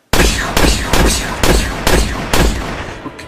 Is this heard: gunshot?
yes